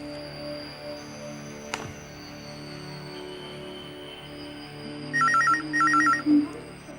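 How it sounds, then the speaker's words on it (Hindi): In a quiet room, a telephone bell rings in two short electronic bursts near the end, clear above low background tone. "राजीव प्लीज फोन उठाना।"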